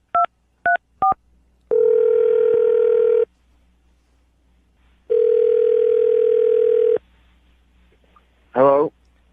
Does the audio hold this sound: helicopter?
no